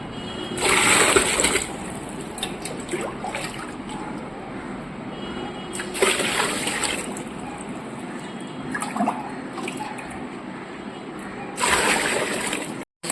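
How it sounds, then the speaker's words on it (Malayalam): Aquarium gravel stones being washed by hand in a bucket of water, with repeated sloshing and splashing bursts in three or four rhythmic bouts, close and moderately loud. "വെള്ളത്തിനകത്ത് തന്നെ ഇട്ട് കല്ലെല്ലാം കൂടെ കഴുകുമ്പം കുറേയൊക്കെ അഴുക്ക് പോകും"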